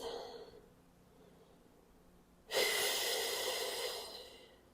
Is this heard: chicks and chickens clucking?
no